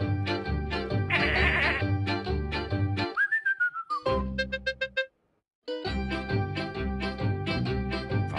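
Cartoon sheep bleat in a Hey Duggee children's game amid bright, busy music and whistling tones, with a sliding whistle and a brief silence partway through.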